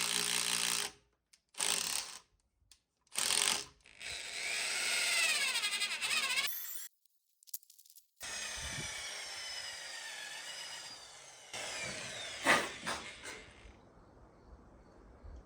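A powered drill grinds into a log for log-cabin stairs in several bursts, whining and straining with pauses between, close and loud, no speech.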